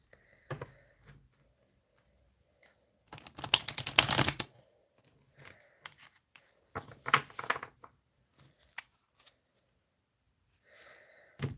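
Tarot cards being shuffled by hand, heard as close, dry rustling bursts with one long riffle in the middle and shorter shuffles before and after, separated by quiet pauses.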